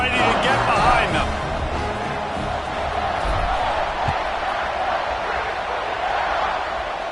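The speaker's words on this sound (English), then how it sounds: "They're set to kick it off, and this crowd now ready to get behind them" A football stadium crowd roars steadily before a kickoff after an extra point makes it 14-3, a dense, continuous wash of cheering under a commentator's voice.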